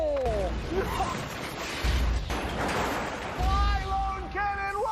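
Cannon firing effect in a small business loan advert, with two deep booming blasts spaced apart under people talking.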